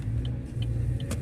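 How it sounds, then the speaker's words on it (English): Road traffic heard from inside a moving car at sunset, a steady loud low engine and road rumble with faint higher hisses passing by, no talking. "So lots of traffic here."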